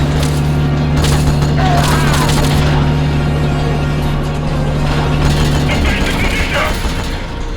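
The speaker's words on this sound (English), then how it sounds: "Main cannon ready to fire! This one packs a punch!" Heavy explosive booms and mechanical clanking from a main cannon firing in the Metal Gear Solid: Peace Walker video game, loud and sustained over a low engine drone, with bursts of blasts spread across the scene.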